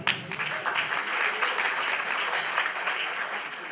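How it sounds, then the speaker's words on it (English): A room full of people at a cultural presentation night clapping for a presenter, a dense, continuous wash of applause held at a steady level for several seconds. "So your applause to Musa."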